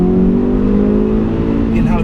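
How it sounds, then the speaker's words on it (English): A 2016 Hyundai Veloster Rally Turbo with a 6-speed manual pulls hard, its deep intake roar rising steadily in pitch under acceleration and close by. A faint turbo whoosh creeps in near the end. "in how deep the intake roar is"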